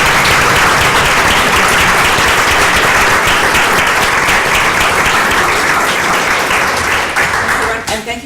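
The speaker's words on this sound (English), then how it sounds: "Round of applause for Gina." A panel audience breaks into loud, dense applause that carries on steadily for several seconds before thinning out and fading at the end.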